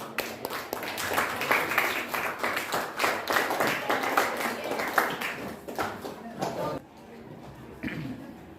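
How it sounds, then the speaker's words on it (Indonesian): Pupils applaud in a classroom after a presentation, giving a burst of sharp, uneven clapping that runs for several seconds before fading, followed by a teacher's voice speaking. "Tepuk tangan."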